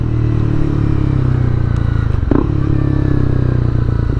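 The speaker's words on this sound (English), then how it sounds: "The 286cc liquid cooled engine on this bike is a ripper." A 2021 Honda CB300R with its 286cc liquid-cooled engine rides through Portland, giving a steady, loud low engine drone with a brief scrape or clatter partway through.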